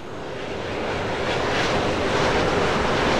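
An L-39C Albatros jet trainer in a flight simulator roars steadily during its takeoff run, the engine noise broad and loud and building slightly as it goes, with no other sound.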